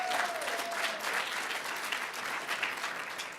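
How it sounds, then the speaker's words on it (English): Graduates and families applauding at a nursing pinning ceremony, dense sustained clapping from a large crowd with a brief whistle or cheer near the start. "If you are first generation, please raise your hand or give yourself a round of applause"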